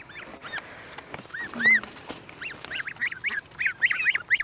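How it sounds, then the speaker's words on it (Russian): Twenty-seven-day-old goslings honk and quack close by in short, nasal calls, single at first and then a quick burst of overlapping honks near the end, with no voices. "One quacks and even a little like a goose."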